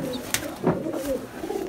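A high flyer pigeon gives a soft, low coo, close and brief, with a few gentle murmured pulses.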